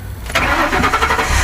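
A Mercury Grand Marquis engine cranks and catches after a brief quiet moment, then runs with a steady, close mechanical hum for the rest of the clip.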